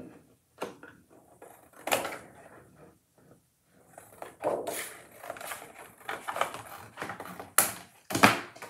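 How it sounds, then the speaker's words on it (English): Rubber stamp being cut apart for stamping on drop cloth, a run of close, irregular crisp snips and handling clatter, some sharp and loud, with brief quiet gaps between. "so I'm just going to cut it"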